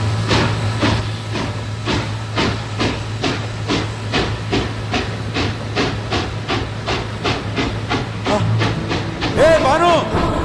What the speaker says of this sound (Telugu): ట్రైన్ కదులుతుంది